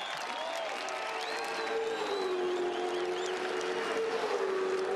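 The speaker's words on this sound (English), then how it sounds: "Listen to the crowd." A large crowd at Pukekohe Park Raceway cheers and applauds a Supercars race winner, a dense sustained roar with a rising whistle-like tone running through it.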